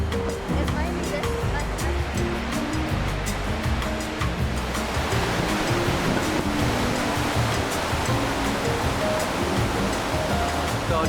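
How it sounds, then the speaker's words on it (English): A waterfall at Tumbler Ridge gives a steady, broad roaring rush throughout, fairly loud and continuous, while a person talks over it. "So to get to the waterfall, the bottom of the waterfall, we have to scale down all this."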